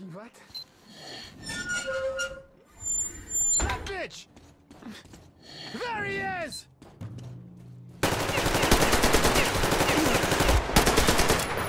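Gunfire in the Metro Exodus video game: after talk and ambient sounds, a sustained, loud burst of rapid automatic shots fills the final few seconds, preceded by speech.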